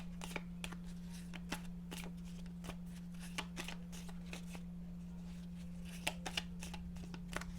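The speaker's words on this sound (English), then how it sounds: "Two more shuffles." A deck of oracle cards is shuffled by hand in repeated crisp riffling bursts. The shuffling is quiet and close, over a low steady electrical hum.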